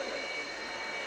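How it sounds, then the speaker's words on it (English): A Sukhoi Su-27P1M jet fighter of the Ukrainian Air Force roars past at an airshow, a steady, broad, loud engine rush sustained throughout the moment. "the Sukhoi Su-27P1M"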